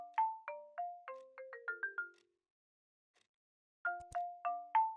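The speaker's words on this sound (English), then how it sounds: "Hold on, my phone." Mobile phone ringtone in the video game Broken Sword 5: The Serpent's Curse, a bright electronic melody of rapid chiming notes that plays for about two seconds, pauses in silence, then resumes clearly and alone.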